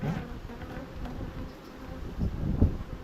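Honey bees drone and buzz around an open beehive in a close, continuous hum. A few louder passes rise briefly near the end.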